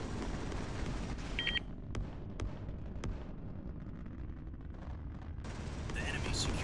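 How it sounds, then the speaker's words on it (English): A missile fires in a multiplayer strategy video game, sharp launch cracks cutting through steady battle rumble and dense background noise, with brief bright bursts near the start and end. "Launching missile."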